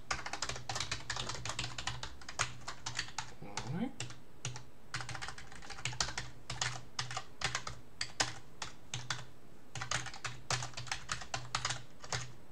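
Quick, even clicks of typing on a computer keyboard come in close, busy bursts as code is copied and pasted, with a few brief pauses.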